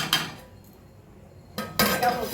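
A lid goes onto a cooking pot with a metallic clatter, then after a short quiet pause comes a second, louder rattling clank as it settles. Both sounds are close, and no one speaks.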